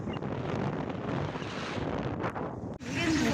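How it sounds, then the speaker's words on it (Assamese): Strong wind buffets the microphone outdoors in stormy, rainy weather, a loud continuous rushing roar with a brief dip near the end. "ইমানে বতাহ মাৰিছে, কোনো কাৰো কথাই নুশুনি"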